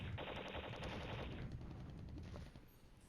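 Rapid machine-gun bursts rattle in a dense, continuous stream from the Flashpoint Campaigns Red Storm war game, loud for over a second before thinning into fainter scattered gunfire.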